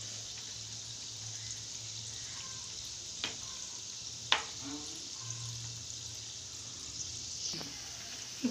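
Veg manchuria balls fry in hot oil, a soft steady sizzle with a few sharp pops and light stirring clinks scattered through, fairly faint and close.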